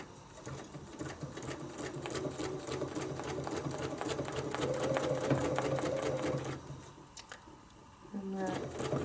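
A sewing machine stitches a feathered quilt with a rapid, steady mechanical chatter close by, pausing near the end and then briefly resuming, while a quiet voice speaks at times.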